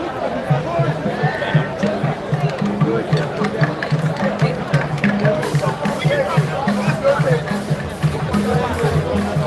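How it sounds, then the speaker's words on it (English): A busy crowd at a World Steelpan Day event makes a steady babble of many voices close by, with a low rhythmic pulse running underneath the hubbub throughout. "Check out the crowd a little bit."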